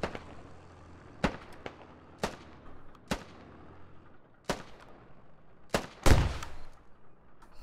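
Gunfire in a military video game cracks out as about seven sharp, separate shots spaced unevenly over several seconds, with one heavier, louder blast near the end.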